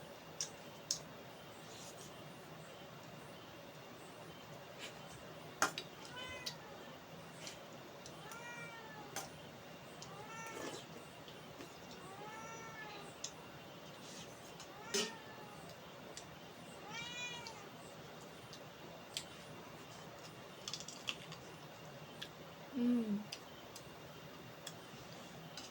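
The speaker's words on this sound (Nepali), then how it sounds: "त्यो खाने बिरालो चाहिँ मागेको गर्छ त।" A cat meows repeatedly while begging for food during a meal of chow mein and thukpa, its calls spaced through the clip at moderate volume amid quiet clinking and faint background sounds.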